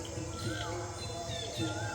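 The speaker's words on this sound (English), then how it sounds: "it was just you here with that in the background, all the birds" Birds sing and chirp faintly in a dawn chorus at the Angkor Wat temple complex at sunrise, with soft, scattered calls over a steady wash of background hum.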